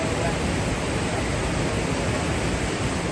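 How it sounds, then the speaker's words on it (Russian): Steady, loud rushing of the Bzyb river, a large clear-water river in Abkhazia, a dense broadband wash with no breaks. "Наша очередная остановка — река Бзык. Конечно, очень крупная река и с чистой водой голубой."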